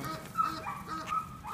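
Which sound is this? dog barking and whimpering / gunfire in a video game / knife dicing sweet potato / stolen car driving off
dog barking and whimpering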